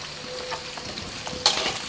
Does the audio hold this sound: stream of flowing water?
no